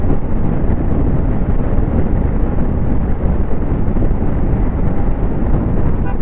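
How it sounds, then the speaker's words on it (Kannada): Heavy, steady wind blast roars across the microphone while riding a 2024 TVS iQube ST electric scooter at full throttle, a dense low rumble with no pauses. "ಹೆವಿ ಆಗ್ತಿದೆ ವಿಂಡ್ ಬ್ಲಾಸ್ಟು."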